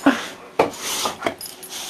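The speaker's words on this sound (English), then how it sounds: "What kind of dog is that?" A small dog makes short scuffling and rubbing sounds close by, several brief bursts at uneven intervals with faint panting between, and no clear talk.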